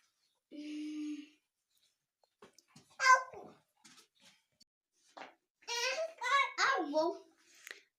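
A small kitten gives several high, thin meows in a quiet room, a short one early and a cluster near the end, with a voice chattering in between.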